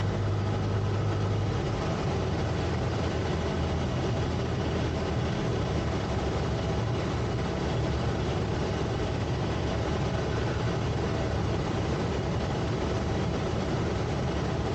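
Cessna light aircraft engine running at idle: a steady, continuous low drone, moderately loud and unbroken throughout, with no voices.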